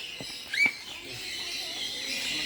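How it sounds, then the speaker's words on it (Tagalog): A bird calls at a safari adventure park, giving a single short chirp amid a faint outdoor background with light taps and rustle; soft and moderately distant. "Anong klaseng ibon to?"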